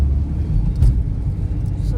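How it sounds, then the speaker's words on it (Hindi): Dense road traffic on a busy highway approaching Mehsana in the morning, a steady low engine rumble with a passing vehicle swelling briefly near the middle, continuous and close. "सुबह के टाइम में इतना ट्रैफिक है।"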